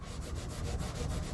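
Rhythmic scrubbing of stainless steel with a Scotch-Brite-style abrasive pad while rebuilding an Edson pedestal steering unit, a steady close back-and-forth rubbing alone.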